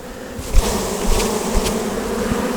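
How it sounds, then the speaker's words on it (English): Honey bees take to the air from an opened hive during a warm-weather inspection, making a dense, continuous buzzing swarm hum close by, with a few louder passes of individual bees near the microphone. "So now we have bees in the air, which is always nice."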